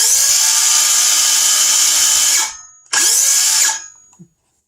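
A Harbor Freight Bauer 20v cordless circular saw spins up unloaded with a loud steady high whine, winds down, then runs again in a second short burst before braking to a stop, close and alone.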